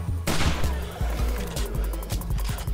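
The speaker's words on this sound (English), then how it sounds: "I'm using the gun" A gun fires in 7 Days to Die, sounding as a steady string of loud, close shots at a fast regular rhythm that continues for a few seconds, with no talk over it.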